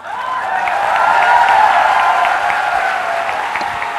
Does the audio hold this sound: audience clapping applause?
yes